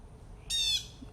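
A blue jay lets out one harsh, bright squawk lasting about a third of a second, loud against a quiet background.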